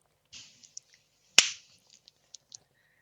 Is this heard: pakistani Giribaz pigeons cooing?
no